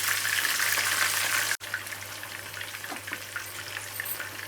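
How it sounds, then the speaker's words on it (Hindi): Fish slices fry in a pan for fish curry, a bright steady sizzle that cuts off briefly and then resumes more quietly with light crackles, close and alone. "मछली मैंने डाल दी है, मैं 2-2 स्लाइस करके इसे फ्राई करती हूँ।"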